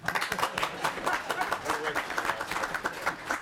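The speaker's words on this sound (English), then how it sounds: "If you could join me in clapping for Representative Hoppers." Room of people clapping for Representative Hoppers during a committee hearing on GMO labeling, a sustained run of sharp claps with voices talking over it.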